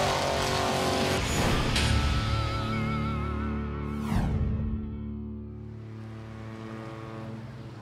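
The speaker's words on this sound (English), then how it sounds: "zoom, car goes by in a blur" A rally car at Targa Newfoundland roars past on a quiet country road, its engine note rising loud and close, then dropping in a sharp Doppler sweep as it blurs by and fades off into the distance.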